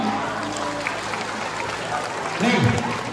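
An audience at a school spiritual-building and parenting training session applauds in a steady wash of clapping, while a voice speaks over it near the end.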